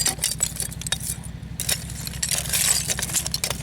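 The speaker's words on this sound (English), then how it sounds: "A bunch of broken china and stuff in there." Shards of broken china and glass clink, jingle and scrape continuously while someone digs through an old dump layer, over a steady low engine-like hum.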